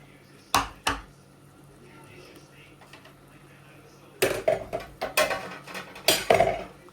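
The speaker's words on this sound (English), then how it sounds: "Going in with tomato and some of the chopped onion." Tomato and chopped onion tipped into a cooking pot for spinach soup with cow meat, a few sharp clanks and knocks of utensil on pot, with quieter sliding and thudding sounds between.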